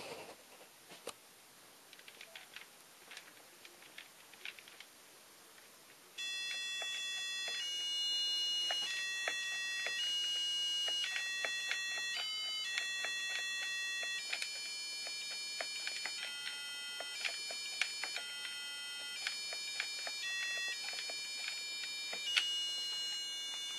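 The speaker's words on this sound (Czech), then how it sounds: "všimněte si, že zvukový generátor stále hraje." Thin, bright electronic beeps from the sound generator of an East German KC-87 or KC-85 home computer step through a string of pitches in a steady melody, with faint ticking clicks before and under the tones.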